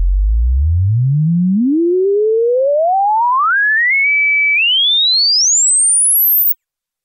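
A pure sine tone sweeps steadily upward from a deep bass hum to a piercing high whistle over about six seconds, loud and alone, then cuts off abruptly.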